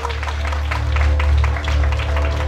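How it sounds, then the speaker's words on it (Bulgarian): Wedding guests applaud as the groom's parents are introduced. Loud, continuous clapping runs over a low, steady hum of music or a sound system in the hall. "Силни аплодисменти за достойните."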